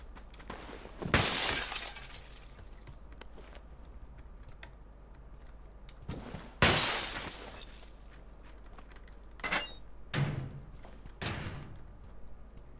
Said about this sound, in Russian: так вообще стекло разбилось